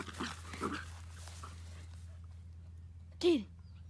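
A dog gives a short, sharp whimper near the end, after quiet talk at the start and a stretch of low hum in a home setting.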